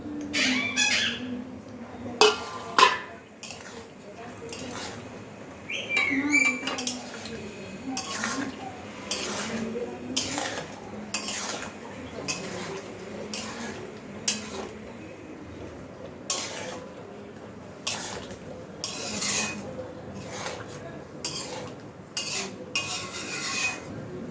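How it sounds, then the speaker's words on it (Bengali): Fish egg fritters go one by one into a pan of simmering Bengali curry with potato and pointed gourd, bringing repeated clinks and scrapes of a spoon against the metal pan over a soft bubbling, while someone talks at times. "এবার আমরা এই বড়াগুলো আস্তে আস্তে দিয়ে দিলাম, মাছের ডিমের বড়া যেগুলো ছিল সেগুলো এতে দিয়ে দিলাম।"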